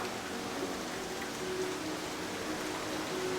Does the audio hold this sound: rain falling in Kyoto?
yes